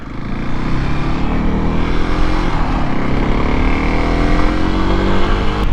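A Kawasaki KLX 300SM supermoto motorcycle pulls out in traffic, its engine droning steadily near and loud with rising revs and a rush of wind throughout.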